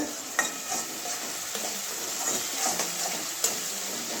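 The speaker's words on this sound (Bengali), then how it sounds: "আর একটু কষিয়ে নেব। জল দেবো না, একটু তেলটা বেশি করেই দেওয়া হয়েছে।" Tomato masala with Kashmiri red chilli and plenty of oil sautéing in a pan for a katla posto curry, giving a steady soft sizzle with occasional stirring scrapes, close and fairly quiet, no talk.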